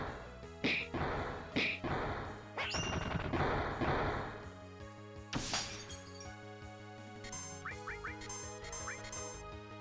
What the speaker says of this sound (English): the glass shattering sound effect is out of place with a lot of the other sound effects